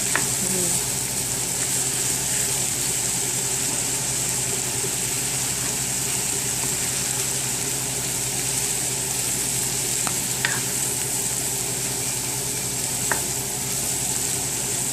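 Ground beef with carrots and peas cooks in a pan for an Asian oriental-style dish, giving a steady, even sizzle throughout with a constant hiss and a few faint clicks near the end, no talking.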